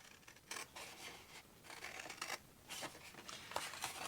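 Scissors cut paper along a score line in a card-making project, making short, faint snipping and rustling strokes in an uneven run of about eight cuts.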